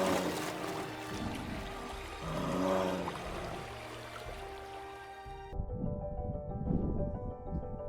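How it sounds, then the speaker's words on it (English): Shallow water of the Yukon River runs over rocks in a soft, continuous wash and trickle that shifts in texture partway through, with no voices. "The constant murmur of the water flowing"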